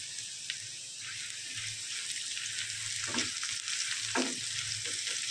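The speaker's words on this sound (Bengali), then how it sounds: "রসুন ভেজে নিচ্ছি।" Garlic frying in mustard oil, a continuous soft hiss with a couple of brief clinks and stirring scrapes, close by and fairly quiet.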